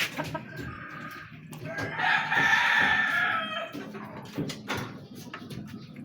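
A backyard flock of seven-month-old chickens clucks steadily close by while a rooster lets out one long, loud crow in the middle, with more clucking and brief calls on either side.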